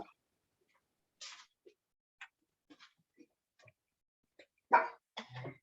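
Dogs barking nearby in a few short, sharp bursts with quiet gaps between them, the loudest pair coming near the end.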